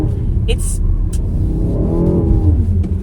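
An Alpina XB7 SUV revving under heavy throttle as it drifts in snow at Lime Rock Park, a loud rising engine drone with talk over it.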